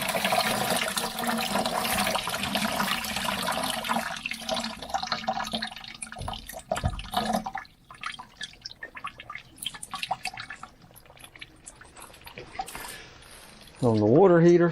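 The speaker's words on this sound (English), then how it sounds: "I'll just open hot water, cold water" Water gushes loudly from opened hot and cold kitchen sink taps as a steady rush, then gives way to quieter drips and handling noises, ending with a brief squeaky tap turn.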